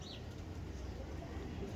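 Purebred golden pigeons coo softly in low, murmuring pulses, with faint background noise and a hint of distant voices.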